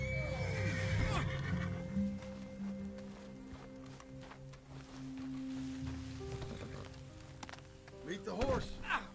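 A horse in Red Dead Redemption 2 whinnies loudly at the start and again near the end, over game music, water and a speaking voice.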